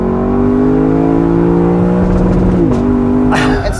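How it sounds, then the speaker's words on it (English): A BMW M3 engine holds a loud, steady high-rev drone bouncing off the rev limiter, then dips in pitch on a downshift before a final sharp blip, all heard close up from inside the car. "I'm just gonna downshift and just pinging it off the limiter"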